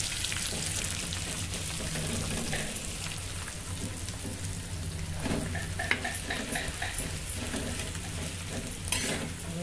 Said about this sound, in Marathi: हा मसाला आपण संपूर्ण असा तेलामध्ये फ्राय करून घेऊ